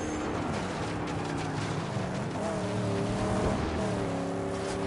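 A car boosts with nitrous in the Mad Max video game, its loud engine drone rising in pitch under a constant rushing roar.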